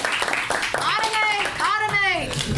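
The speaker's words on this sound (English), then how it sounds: "Round of applause." A small group at an evening Agile LINC meetup in St. Louis, recorded for a podcast, gives a brief round of applause, scattered claps mixed with voices cheering over them.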